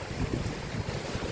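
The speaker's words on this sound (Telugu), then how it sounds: "మళ్ళీ గాలి వస్తుంది." Gusting wind roars during a cyclone storm, a dense, broadband rush of air buffeting outdoors, steady and fairly loud across the whole moment with no voices.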